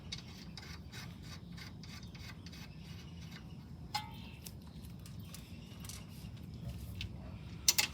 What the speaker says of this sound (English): So I'm putting these 2 bolts in.